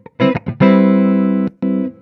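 Loud, distorted electric guitar notes and a sustained chord ring out through an AMP1 Mercury Edition amplifier with reverb, with short gaps and a bit of lingering reverb.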